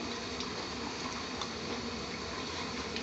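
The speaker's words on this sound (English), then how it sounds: "Chef Imran is going to toss the oil in" Cooking oil, about four to five tablespoons, goes into a hot pan for restaurant-style sag bhaji, giving a steady dense hiss and gurgle that runs unbroken and fairly loud.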